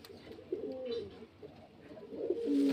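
Pigeons kept for sale coo in soft, low rounded calls, several overlapping bursts rising and falling close by, with a fuller cooing swell near the end over quiet background noise.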